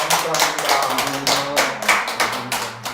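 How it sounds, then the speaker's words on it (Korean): A congregation at a New Year church service claps together in uneven bursts, loud and close, with voices mixed in among the claps. "우리 하나님께 박수로 영광을 올려드리겠습니다"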